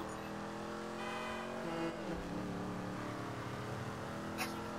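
Stolen car driven in a video game, a steady engine drone with a pitch dip as it swerves, played under game music.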